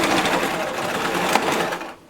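Sewing machine stitching a fabric face mask, a steady fast mechanical whir running continuously and up close before slowing to a stop.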